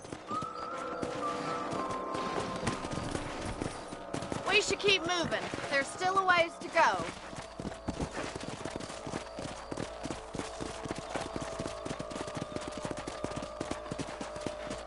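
Horse hooves clip-clop steadily through a Western frontier scene in the video game Red Dead Redemption, with someone talking over the rhythmic footfalls and some background game sound.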